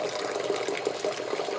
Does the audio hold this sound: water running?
yes